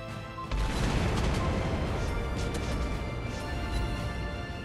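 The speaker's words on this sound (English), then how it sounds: "I'm gonna fire that secondaries while he is trying to run away" Secondary guns of a Tier 8 Ragnarok warship firing in World of Warships Blitz, a dense, continuous run of booming shots and crashes that rises sharply after half a second and keeps rumbling loud to the end.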